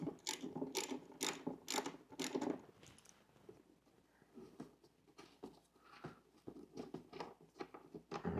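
A ratchet wrench removes bolts from a Honda FourTrax 300 ATV, giving rapid close clicking bursts in several runs, a pause, then more ratcheting strokes, with no talk.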